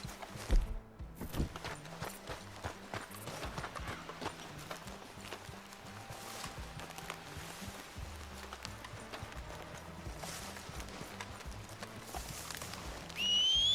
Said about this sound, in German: Gehen wir mit dem Pferd.